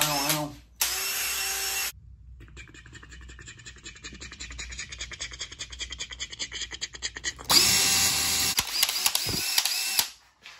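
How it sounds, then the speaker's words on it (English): A power drill boring aeration holes into a yard runs in a long whirring stretch between louder handling and scraping noises, close and fairly strong, with sharp clicks near the end. "we're gonna go drill some holes in the yard"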